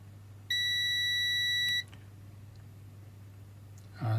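A single sustained electronic beep from a tester checking an Epson printer driver chip, a steady high tone lasting just over a second, clear and close over a low constant hum, then quiet.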